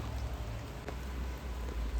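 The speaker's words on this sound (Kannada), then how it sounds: "ಮಳೆ ಮತ್ತೆ ಜೋರಾಯಿತು." Steady rain patters in a continuous, even wash of noise, with no voices and no breaks.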